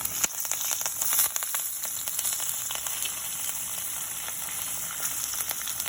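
Ginger pieces and green curry leaves sizzling and crackling in hot oil in a pan, a steady close frying hiss with scattered sharp pops and no voices.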